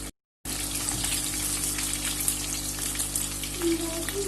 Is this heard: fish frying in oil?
yes